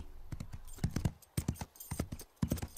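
Pepper, a cartoon horse, walks with crisp hoof clip-clops in an uneven rhythm of paired and single strikes, close and clear with no voices over them.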